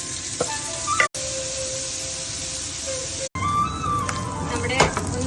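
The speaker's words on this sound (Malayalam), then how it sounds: "നമ്മൾ ആ നേരത്തെ മാരിനേറ്റ് ചെയ്ത് വെച്ച കൊഞ്ചൊന്ന് ചെറുതായിട്ടൊന്ന് വറുത്തെടുക്കാമേ" Marinated prawns sizzle and fry steadily in hot oil in a pan, a continuous crackling hiss with brief gaps, some clatter and tonal kitchen sounds, and faint talk in the background.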